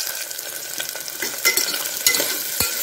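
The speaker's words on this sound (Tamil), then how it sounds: "இப்போ இதை நல்லா பரட்டி விடுவோம்." Onions and green chillies frying in a pan while being stirred, a steady close sizzle broken by several sharp spatula scrapes and clinks, with no talking.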